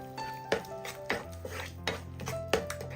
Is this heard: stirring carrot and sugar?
yes